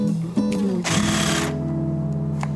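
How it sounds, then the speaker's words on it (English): A jigsaw buzzes in short bursts, a brief start and stop followed by a louder, steadier run as the blade bites into the material, close and prominent with no talking. "So he turns to his jigsaw. Which is the proper tool for the job."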